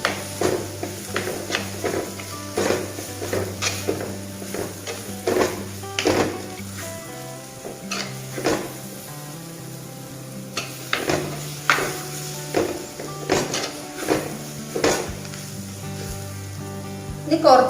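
Tomatoes being stirred into a spicy Kerala-style chicken roast in a pan, with repeated scraping and clinking strokes of a spoon over a low steady sizzle, close and moderately loud.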